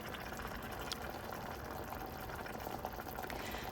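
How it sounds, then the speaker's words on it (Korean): Kimchi brine left over in the container of aged kimchi (mukeunji) is poured into a pot for pork kimchi-jjim, a steady, close wash of trickling and splashing liquid that runs on with no talk. "김치통에 남아있는 묵은지 국물도 버리지 마세요. 남은 국물까지 모두 넣어줍니다."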